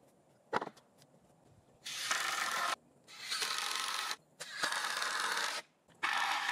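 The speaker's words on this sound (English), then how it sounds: "I reinforced the entire thing with more screws" A power drill drives screws into the wooden frame of a solar panel ground mount platform, heard as several sustained whirring bursts of one to two seconds each with short gaps and a sharp click between them, close by and without talking.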